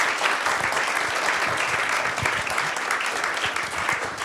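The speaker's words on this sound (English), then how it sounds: "give our three panelists a big round of applause" Sustained audience applause for three panelists at a talk on online games, with a thick, even clapping texture from a full room and a few louder individual claps standing out nearby.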